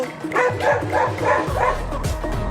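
A dog barks in a quick, rhythmic run of about five yapping woofs, close and loud, followed by softer whimpering sounds.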